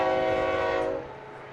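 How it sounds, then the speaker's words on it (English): A distant train sounds its horn in a long, steady chord that fades out partway through, heard in the background at a night baseball game with no talk over it. "Another train in the background."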